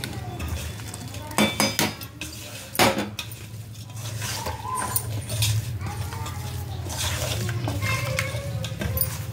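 Spoon clinks and scrapes against a dish while turmeric, chilli powder and other ingredients are mixed together, with irregular close metallic taps and stirring noises over a low steady hum.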